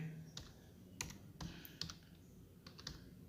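Typing on a computer keyboard while entering a REPEAT command in MSW Logo: scattered, uneven key taps at close range, with a few sharper clicks over a low background hum.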